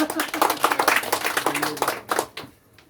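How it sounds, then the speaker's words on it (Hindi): Audience at an open public meeting in Thariya claps for a man coming on stage, a dense burst of hand claps that tapers off near the end, with voices mixed in. "आइए सर, आपके लिए ताली"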